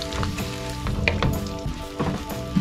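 Beef sautés and is stirred in a pan for Filipino ginisang gulay, a loud close sizzle broken by scraping stirs and a few clinks of utensil on metal, no talking.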